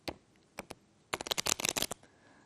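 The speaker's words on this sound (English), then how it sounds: "riffle the other ends of the cards together with the thumbs" A deck of playing cards is riffle shuffled, with a few single snaps followed by a fast, dense burst of fluttering clicks as the two halves interleave, close and loud with no talk.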